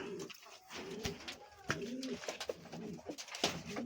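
Several satin pigeons coo close by in a pigeon coop, overlapping low throaty calls with wing flutters and small rustles, no talking.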